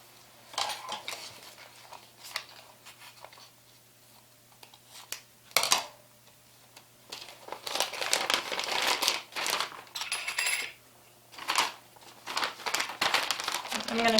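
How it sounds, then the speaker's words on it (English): A plastic piping bag fitted with a large Wilton 8B tip crinkles and rustles in bursts as it is handled and filled with chocolate peppermint frosting. Someone speaks at times between the handling noises. "We're going to put this in a large piping bag"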